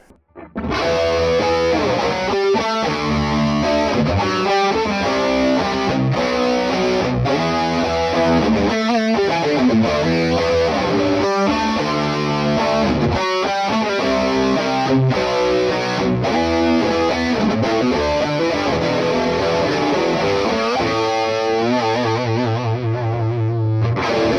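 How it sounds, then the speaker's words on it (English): A heavily distorted electric guitar through a Neural DSP Morgan Amps Suite with a doubler effect plays thick, doubled chords and riffs, loud and dense throughout, ending on a sustained low note. "you can add the doubler to those distorted tones. It just sounds massive"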